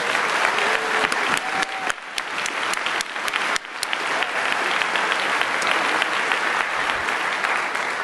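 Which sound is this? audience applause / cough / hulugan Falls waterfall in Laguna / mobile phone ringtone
audience applause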